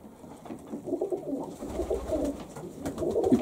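Pigeons in a breeding pen give soft, low cooing calls, steady and fairly close, with no voices over them.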